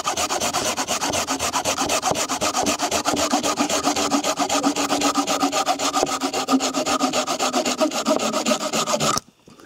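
A Fiskars folding saw cuts through wood in a timed test, giving a loud, close, continuous run of rapid rasping strokes for about nine seconds before it stops suddenly.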